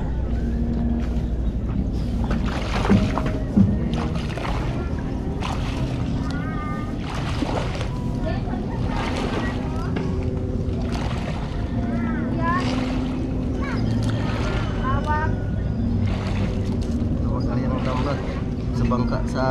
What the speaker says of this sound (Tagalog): Sa bangka sa amin nakabirit ang makina, nag-aarya ng lambat